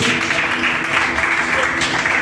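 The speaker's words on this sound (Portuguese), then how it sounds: "Se assente, glorificando o Senhor com as palmas em nome do Senhor Jesus" Continuous rhythmic clapping from a church congregation during an evangelical Sunday service fills the room, steady and loud throughout, with voices blended into the din.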